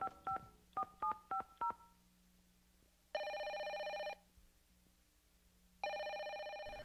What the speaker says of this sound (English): Right away we hear two sound effects that set the scene, a phone dialed and a phone ringing.